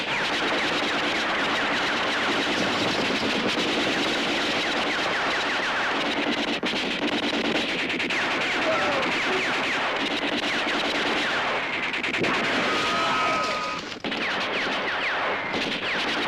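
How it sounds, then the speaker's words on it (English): Heavy gunfire rages through a gunfight scene in the 1971 film H-Bomb, with dense, continuous bursts and volleys filling the whole stretch at high volume and no voices on top. "this leads to a massive gunfight, as seen here"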